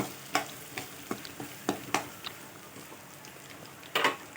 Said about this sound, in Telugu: ఇలా ఒక 2 నిమిషాలు పచ్చి వాసన పోయేంత వరకు మనం వేయించుకోవాలి అల్లం పేస్ట్ని